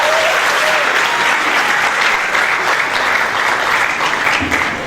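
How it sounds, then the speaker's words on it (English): Steady, dense applause from an audience at a geography alumni lecture and award ceremony, filling the whole stretch loudly and evenly with no break. "Give her a round of applause."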